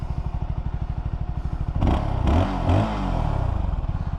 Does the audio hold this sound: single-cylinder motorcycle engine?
yes